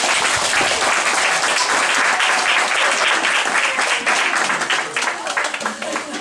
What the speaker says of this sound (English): Let's give all the kids a round of applause